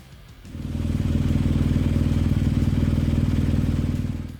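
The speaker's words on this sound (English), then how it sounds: "Number 9, BMW R1200" BMW R1200 GS Adventure water-cooled motorcycle engine, quiet at first, then rising at about half a second into a loud, steady idle with an even rapid pulse that holds throughout.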